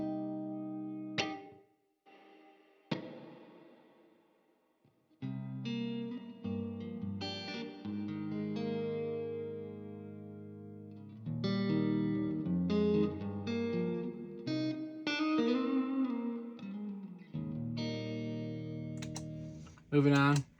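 Electric guitar played through an effects rig with tremolo and reverb, chords and single notes shimmering and pulsing at moderate volume, with sustained ringing tails and short gaps between phrases.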